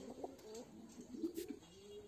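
Pigeons cooing at a pigeon farm: soft, low, rounded coos repeat in a loose rhythm, close by and fairly quiet, with no talking.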